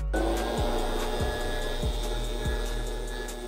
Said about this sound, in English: first thing I like to do each year is come in here with the blower.